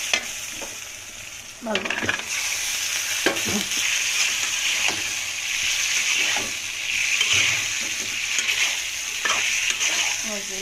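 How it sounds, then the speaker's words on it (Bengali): Fish stir-fried in hot oil in a pan makes a continuous bright sizzle, punctuated by occasional spatula scrapes and knocks, and a voice briefly speaks. "মাছগুলো ঢেলে দিয়ে কষিয়ে নিচ্ছি"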